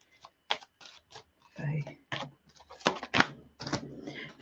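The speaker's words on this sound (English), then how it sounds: "I've got to really shuffle those." Tarot cards are shuffled during a psychic reading in a series of short, irregular riffling bursts, close and fairly quiet, with a voice talking briefly among them.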